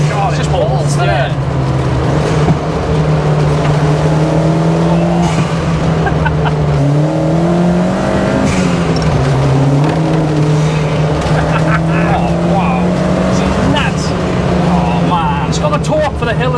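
Mk4 Ford Fiesta running a swapped Mk7 ST180 turbo engine driving hard uphill: a loud, steady engine drone heard from inside the cabin, rising and falling with throttle and gear changes, with occasional talk from the occupants.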